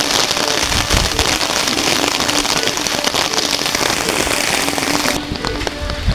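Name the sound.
heavy rain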